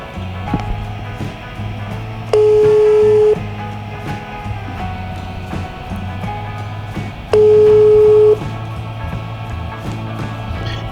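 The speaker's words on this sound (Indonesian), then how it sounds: "Oke, mari kita telepon." A phone call being placed, with two long steady ring-back tones heard over continuous background music, each lasting about a second and separated by a pause of several seconds.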